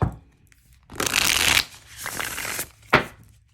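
Tarot cards being shuffled close up in a few quick riffling bursts, crisp papery flutters separated by brief pauses, with no talking.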